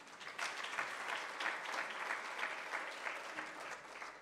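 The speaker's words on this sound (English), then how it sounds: "Can we give a round of applause?" A round of applause from the audience at an Africa investment summit, moderate, fairly distant clapping with a rhythmic, even texture throughout.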